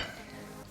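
Green bananas and potatoes cooking for matoke, a brief soft sizzle and stir in the pot, close and steady with no talk.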